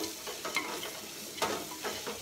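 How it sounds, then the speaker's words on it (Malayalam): Chicken masala and chili powder are stirred in hot oil, a soft sizzle under a few quick scraping strokes, brief and close but fairly quiet, with no speech. "നല്ലതുപോലെ ഒന്ന് മിക്സ് ചെയ്തിട്ട് നമുക്ക് മുളക് പൊടി ചേർത്ത് കൊടുക്കാം"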